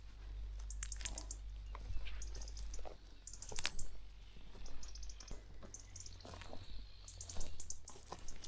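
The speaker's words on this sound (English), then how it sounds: "Let's have a minute of silence to hear the birds." Faint birds chirp and tweet in short, high bursts against a quiet rural homestead hush in Portugal, with calls scattered throughout and no one speaking.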